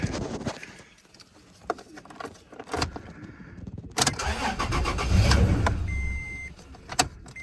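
A Toyota Tacoma 4-liter truck, one with a fault where it dies and will not stay running, cranks and catches into a steady idle after a battery reconnect, the engine rumbling loudly from around four seconds on with clicks and rattles.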